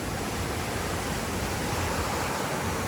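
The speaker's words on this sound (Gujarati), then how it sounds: "કેવો અવાજ આવે છે, જોઈ લો. આ રીતે અહીંયા પાણી બધું નીકળે" A loud, constant roar of Narmada canal water rushing out where the canal meets the Orsang river, broadband and unbroken, with no voices.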